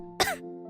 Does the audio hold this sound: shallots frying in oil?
no